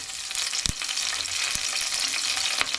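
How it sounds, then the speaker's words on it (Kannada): Curry leaves sizzle in hot oil for a home-style chicken curry, a steady crackling hiss with a few sharp pops, close and fairly loud with no talking. "ಈಗ ಬಿಸಿ ಆಗಿದೆ ಅದಕ್ಕೆ ಕರಿಬೇವು ಹಾಕ್ಕೋಬೇಕು"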